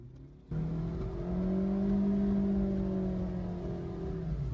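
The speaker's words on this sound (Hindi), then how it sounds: "ये गाड़ी सिर्फ आवाज कर रही है, पिकअप नहीं बना रही है, लोड नहीं ले रही है।" A Suzuki Dzire engine with a slipping clutch plate, in fourth gear at about 30 km/h, rises from idle into a sustained, droning rev as the pedal is pressed, holding a steady whining pitch without the car pulling.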